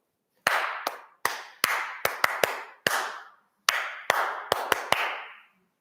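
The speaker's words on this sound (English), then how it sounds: "I'm clapping now" Hand claps in a clear, deliberate rhythm, sharp close strikes in uneven groups set in three-beat meter, played alone with short pauses between phrases during a Kodály-method music lesson.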